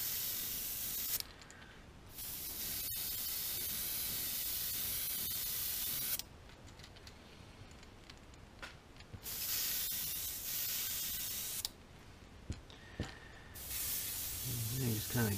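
Airbrush spraying paint onto a crankbait fishing lure in a rainbow trout pattern, a close soft hiss in several bursts separated by short pauses.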